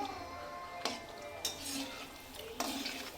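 Fuchka puris drop into hot mustard oil, giving a soft steady sizzle with three sharp splashy bursts as each piece hits or is turned, faint and close.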